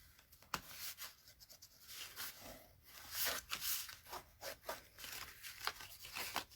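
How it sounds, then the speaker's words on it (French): Close, quiet creasing of folded paper card with a bone folder, a series of short rubbing and scraping strokes with soft crinkles between them. "avec mon plioir, je remets bien les plis comme il faut"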